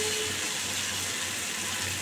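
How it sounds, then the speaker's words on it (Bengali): Onion, green chili, turmeric and salt sautéing in a pan, a steady close sizzle and hiss with faint stirring underneath, continuous and unbroken throughout. "পেঁয়াজ, কাঁচা লঙ্কা, হলুদ, নুন সব দিয়ে দিয়েছি, কষাচ্ছি।"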